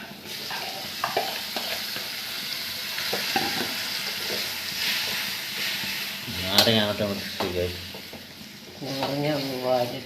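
Salted lemon pieces with turmeric and other spice powders are stirred in a pan for lemon pickle, giving a steady soft sizzle and scraping close by. A voice speaks briefly over it toward the end.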